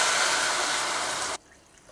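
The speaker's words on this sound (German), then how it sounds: "gebe ich jetzt eine doppelte Menge von Wasser" Water is poured onto a cup of rice in a cooking pot with a steady, fairly loud rushing hiss. It stops abruptly after more than a second, leaving near-silence.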